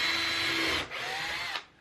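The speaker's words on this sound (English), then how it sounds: "So just using my drill to make a steep angled hole" Power drill boring a steep angled hole into wood for a wall-mounted coffee mug rack, a close, loud steady whine that dips briefly and then continues before stopping.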